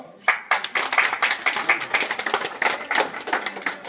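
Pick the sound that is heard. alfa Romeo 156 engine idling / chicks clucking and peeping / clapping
clapping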